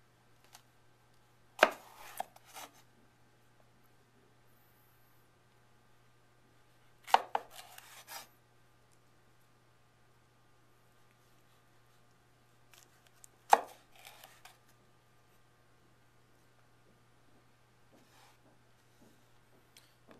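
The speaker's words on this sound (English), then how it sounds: "make sure your knife's clean, and cut it lengthwise, and it's going to be about 1/4 inch thick." A knife chops through a vegetable in three separate cuts spaced several seconds apart, each a sharp close knock with a quick follow-up tap, over a faint steady hum in a quiet room.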